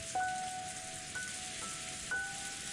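Steady rain in Umineko When They Cry hisses evenly and close, with a soft repeating chime tone drifting over it.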